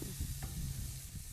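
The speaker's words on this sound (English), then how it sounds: "we're going to go ahead and put this on the grill. And we're going to let this cook." Flank steak sizzles on a hot grill over high heat, a dense, steady hiss with soft crackles throughout; no voices.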